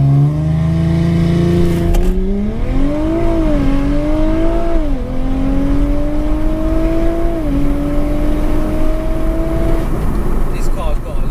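A tuned Audi RS5 TDI engine revs up and pulls hard on a launch-control start, its pitch climbing through gear changes as it accelerates, loud and close.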